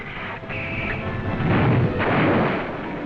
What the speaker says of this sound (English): Our guns open up with a devastating barrage, plowing a path of exploding shells over the town and airfield.